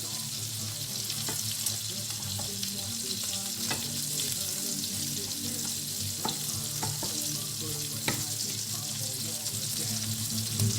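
Steak fries in butter in a pan with a continuous bright sizzle, punctuated by scattered clicks and scrapes as the meat is moved around, close-up and steady for the whole stretch.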